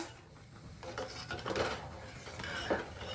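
Thickening millet porridge (jowar and ragi kali) is stirred in a pot, giving quiet scraping and soft clinks of a utensil against the pan in a few uneven strokes, with no talking.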